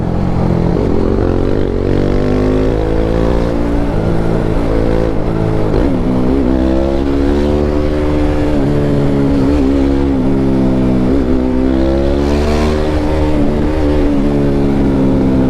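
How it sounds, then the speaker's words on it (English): A BMW G310R motorcycle engine roars steadily with a loud exhaust, its pitch rising and falling as it revs through city traffic, close and continuous. "that's why you have a loud exhaust so people can hear you"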